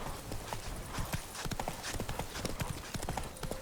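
Horse hooves clip-clop in a steady, even rhythm from The Witcher 3 video game, close and moderately loud over faint ambient game background noise.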